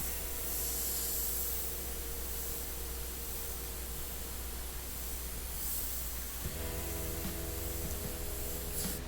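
An airbrush sprays paint in a steady, continuous hiss, close and constant throughout, with a low mechanical hum beneath it that thickens toward the end.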